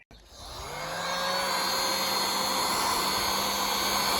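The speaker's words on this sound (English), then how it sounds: "armed with a scraper and a heat gun, I'm going to see if we can get it off at all" Heat gun starting up and blowing hot air to soften vinyl sticker glue on car bodywork, a loud steady whine and rushing airflow that ramps up quickly and then holds close and constant.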